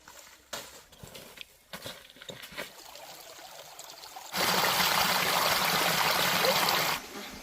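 A mountain stream flows through deep forest, its water rushing loud and steady for a few seconds after quieter rustling and footsteps along the bank.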